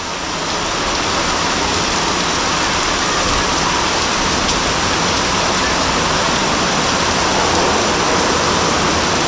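Heavy rain with big drops pours down steadily over a village on a sunny afternoon, a loud, dense, unbroken hiss that holds constant with no pauses or voices.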